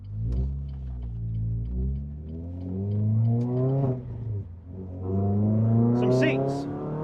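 Renault Clio 200 pulling away and driving, its engine a steady loud drone that rises and falls through the gears, with the pitch climbing under acceleration and no break in the sound.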